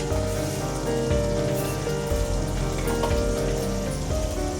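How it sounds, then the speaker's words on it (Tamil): Mustard seeds splutter and crackle in hot oil while tempering is prepared for vatha kuzhambu, a steady, close, rain-like sizzle running throughout under a tonal background. "கடுகு நல்லா பொரியணும்"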